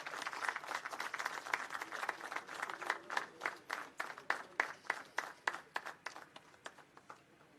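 A crowd at a Jharkhand Foundation Day award parade ceremony gives a round of applause. Individual claps stand out more and more clearly as the clapping thins and fades toward the end.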